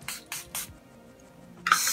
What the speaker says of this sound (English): It has like a nice mist. I'll show you guys.